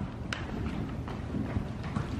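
An older thoroughbred quarter horse, an appendix, trots with soft rhythmic hoofbeats on the ground, moderately close and fairly faint.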